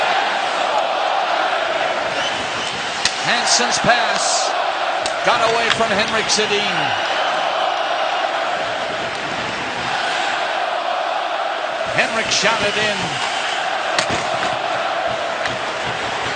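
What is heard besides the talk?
Edmonton hockey crowd roaring at an NHL game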